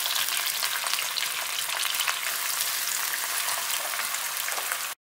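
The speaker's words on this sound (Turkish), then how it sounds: "Biber ve soğanları kavuruyorum önce." Green peppers and onions sauté in a pan with a loud, continuous, close sizzle that cuts off abruptly at the end, with no voices.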